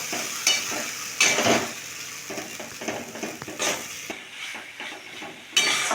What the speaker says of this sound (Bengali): এটা কয়েক মিনিট 2-3 মিনিট একটু কষে নেবো ভালো করে